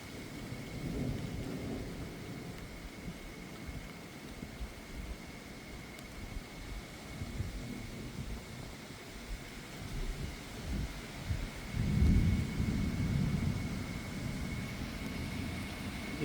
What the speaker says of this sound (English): it's starting to rain now pretty hard